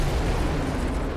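A boss's area-of-effect explosion in Dark Souls 2: Scholar of the First Sin, a loud, dense roaring blast that stays full and rumbling for just over a second with no voices.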